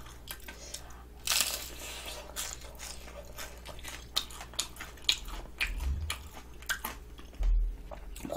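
Crunchy bites into fried sweet potato tempura bought from a market, eaten mukbang-style, give a few close, crisp crunches and chewing sounds spread across a quiet background.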